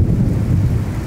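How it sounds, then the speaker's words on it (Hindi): Thunder rolling during a rainy storm, a brief, loud, low rumble with no voices. "बादल गरज रहे हैं, बिजली की चमक आसमान को चीरती जा रही है।"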